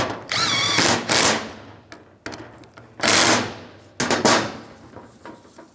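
Nut being snugged down on the wiper motor of a 1998-2010 Volkswagen Beetle with a power driver, several loud whirring bursts of about a second each, close by, with clanks and handling noises in the gaps.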